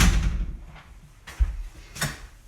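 Household door opened to let a dog in, a scrape and rattle followed by a few separate thuds and knocks spread over a couple of seconds, fairly close.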